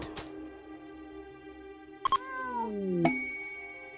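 Feral cats in the video game RimWorld, a few short synthetic meows and chime-like tones rising then sliding down over a steady game music drone, close and clear, no speech.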